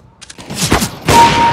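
Loud close gunfire in CSGO, a quick cluster of sharp shots and booming reports fired in rapid succession over about a second.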